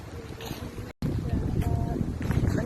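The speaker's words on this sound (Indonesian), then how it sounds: "Denger ya, suara anginnya tuh terlalu kuat, terlalu kencang." Strong, gusty wind at a beach at low tide buffets the microphone in a loud, continuous rush, with a brief dropout near the start, while someone talks over it.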